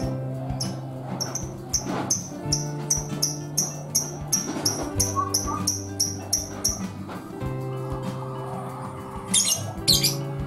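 A lovebird gives a long run of rapid, high, repeated chirps, close and insistent, over background noise and a brief low tone.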